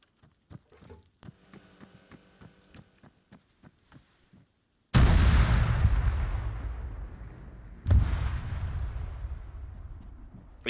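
Dana self-propelled howitzer firing in ARMA 3, two heavy booming shots a few seconds apart, each a sudden blast trailing into a long rumbling decay, preceded by soft ticking and mechanical clicks.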